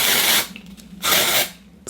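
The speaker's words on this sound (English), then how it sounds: "spray that everywhere because she's dirty" Soap and Glory Rush Hour Sensational dry shampoo sprays onto hair in two loud, hissing aerosol bursts close to the microphone, with a short pause between them.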